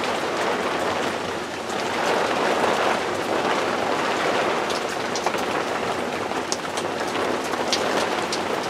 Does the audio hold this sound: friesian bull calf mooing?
no